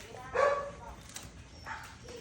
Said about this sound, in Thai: เธอเห็นไหมลูกเราก็เห่าเนี่ย